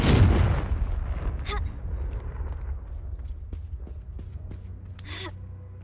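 A Confringo blasting spell fired in Hogwarts Legacy: one loud, booming blast at the start that decays into a long rumbling tail, followed by a few faint crackles and a brief whooshing sound.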